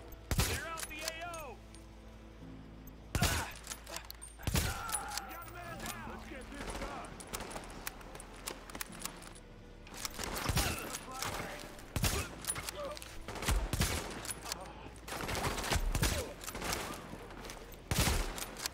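Repeated bursts of video game gunfire from The Division, loud volleys and rapid fusillades scattered across the scene with shorter single shots between, mixed with game voice alerts and ambient battle noise.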